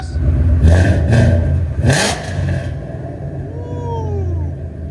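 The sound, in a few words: supercharged Ford Mustang GT 5.0L V8 exhaust revving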